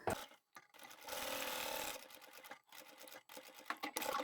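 Sewing machine stitching fabric for a bag lining made from scrap fabric, with short mechanical bursts, a longer run of needle chatter and quick stops for back stitching, quiet and close by with no talk.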